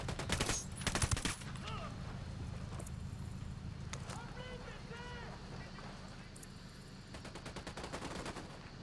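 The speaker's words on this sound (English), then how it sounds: "Got more people shooting." Gunfire in the video game Ghost Recon Wildlands, with bursts of rapid shots at the start followed by scattered distant pops over a steady background rumble.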